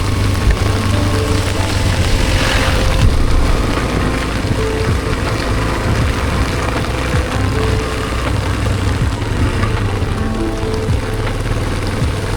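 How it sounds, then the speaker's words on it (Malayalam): Heavy rain pours steadily at the Mount Sathram airstrip in Idukki, a loud, dense hiss of drops on surfaces that fills the whole stretch with no voices. "നല്ല മഴയാണ്, ഞാൻ പറയുന്നത് കേൾക്കാൻ ബുദ്ധിമുട്ടുണ്ടായിരിക്കും."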